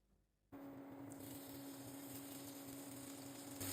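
Onion frying in about 30 grams of oil in a pan on the stove, a steady close sizzle that starts abruptly after a brief quiet moment and continues evenly throughout.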